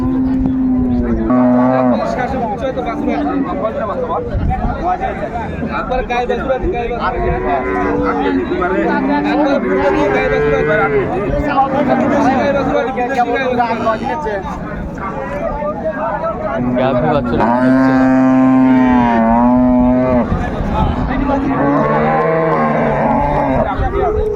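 Cows and calves moo repeatedly amid a busy crowd at Raniganj cattle market in Dinajpur, where dairy cows and calves are traded. The animal calls sit close under constant loud chatter and voices throughout.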